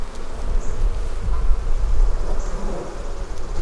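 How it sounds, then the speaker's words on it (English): A dense swarm of honeybees buzzes loudly and continuously up close around a hive frame, a thick droning hum with individual insects whining past. "the bees are just pouring off of there"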